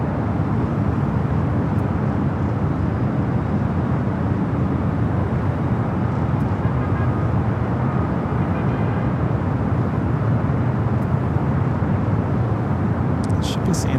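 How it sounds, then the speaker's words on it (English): Hawaiian Airlines Airbus A330 crossing over runway 24 Left at LAX, a steady broadband jet roar that holds evenly for the whole stretch without a clear rise or fade. "Hawaiian A330 now crossing over 24 left."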